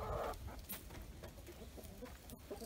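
Chickens clucking on a farm, several birds close by with a louder burst at the start, then steady soft clucks and scratching throughout.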